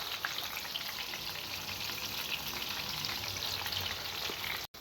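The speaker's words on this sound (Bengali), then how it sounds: "এভাবে ভেজে নিতে হবে সবগুলো চিকেন" Steady, loud sizzling of chicken frying in oil, a dense crackle running without pause until a brief cut near the end.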